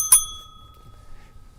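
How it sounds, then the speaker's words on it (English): A single bright bicycle-style bell ding rings once during a cricket watchalong of an IPL 2024 match, loud and close, its tone fading over about a second into quiet. "Ring your bell for the Gaikwad top bat because it's one"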